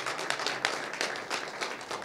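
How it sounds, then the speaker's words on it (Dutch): Light applause for Barry at a Dutch live-streamed horticulture presentation on hyacinth growing systems, a short patter of clapping from a small audience, steady and fairly soft throughout. "Ik wil in ieder geval ook even een applaus voor Barry"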